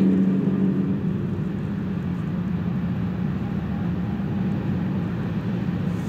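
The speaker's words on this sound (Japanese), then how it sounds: "結構交通量ある音がしてるんだけど" Steady low rumble of road traffic near the Harutachi coast pedestrian tunnel in Iwaki, Fukushima, a continuous broadband drone of vehicles passing nearby without pause.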